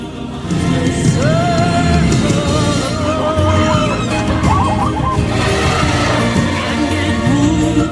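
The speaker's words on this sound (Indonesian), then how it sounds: "seluruh kawanan binatang yang hadir bersorak-sorai ini gembira menyambut kelahiran anak Mufasa." A herd of animals cheers at the birth of the lion king's cub in The Lion King, a loud, dense, unbroken mass of bird-like calls, clucks and whistling cries.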